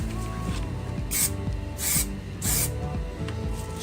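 Aerosol spray paint hissing in three short bursts onto faded plastic car trim, each burst a loud, close broadband hiss separated by pauses, with no talking.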